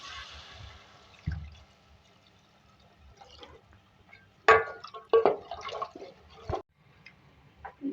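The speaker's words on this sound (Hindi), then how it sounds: "पानी ऐड करूँ 2 गिलास के करीब।" About two glasses of water poured into a pot of simmering mutton and bottle gourd curry, heard as close splashing and gushing bursts with short pauses between pours.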